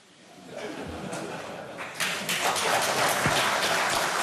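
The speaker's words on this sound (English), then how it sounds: "Today in Beijing, a reversal met with applause." Applause in Beijing greeting a reversal starts soft and scattered, then swells into fuller, denser clapping about halfway through, with faint voices mixed into the crowd.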